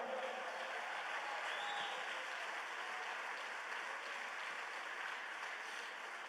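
A church congregation applauds for the Lord during a Spanish-language evangelical service, a steady wash of many hands clapping at moderate distance that holds evenly throughout without voices.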